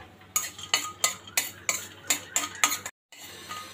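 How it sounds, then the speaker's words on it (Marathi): Cashews and almonds roasting in ghee in a kadhai, stirred with a metal spoon that gives about nine regular scraping, clinking strokes over a soft sizzle, close and clear. "आता मी यात काजू आणि बदाम भाजून घेते."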